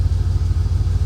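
A car engine that had been sluggish and stalling revs up, a loud close low rumble with a steady throbbing pulse, heard alone without voices.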